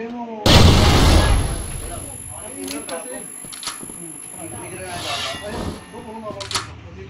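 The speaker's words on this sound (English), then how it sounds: "Flash grenade." A flash grenade goes off in the shooter game Crossfire with one sharp, loud blast, followed by a thin, high-pitched ringing tone that lingers while voices and scattered game clicks continue.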